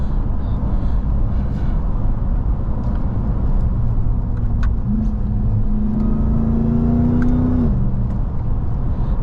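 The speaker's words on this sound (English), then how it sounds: "That supercharged whine is just..." RAM 1500 TRX pickup truck engine droning loudly from the cabin, a rising supercharger whine climbing above the rumble for several seconds before fading back.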